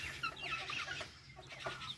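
Chickens cluck on a small farm in quick, overlapping clucks and squawks, several birds nearby, fairly quiet and continuous over the short stretch.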